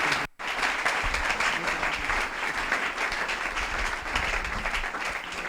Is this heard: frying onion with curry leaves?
no